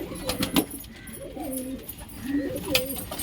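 Pigeons in a loft, including crested pigeons kept for sale, give repeated low throaty coos near the microphone, layered over one another with faint background flutter and no talking.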